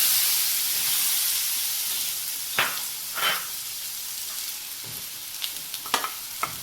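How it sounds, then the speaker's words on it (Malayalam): Chopped banana and beaten rice (avil) fry together in a pan with a steady hissing sizzle, broken by a couple of scraping stirs and small clicks of a spatula near the end. "നമ്മൾ ഇത് രണ്ടും കൂടി തന്നെയാണ് ഒന്ന് ഫ്രൈ ചെയ്ത് എടുക്കുന്നത്"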